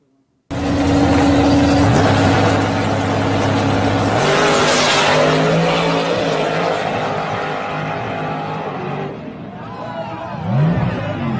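A drag race car launches with a loud, sustained engine roar that holds steady, then tapers off as it pulls away, with crowd noise underneath.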